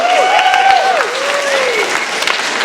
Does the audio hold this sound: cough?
no